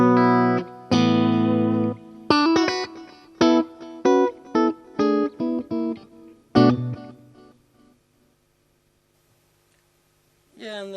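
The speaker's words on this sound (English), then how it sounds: "not too much reverb, not too long, and then a little bit of stereo delay" Clean electric guitar plays a short melodic phrase of plucked notes through a TC Electronic NOVA System, each ringing out with short reverb and stereo delay that trails off into silence.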